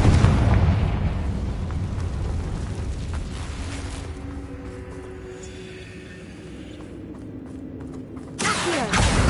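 Confringo blasting spell in a Hogwarts video game, a loud booming explosion that rumbles and decays over several seconds, followed by a fresh burst at the end.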